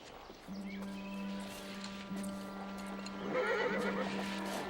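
A horse in a Western setting whinnies in long, strained calls, with hoof clip-clops and rustling beneath, close and fairly loud, with no speech.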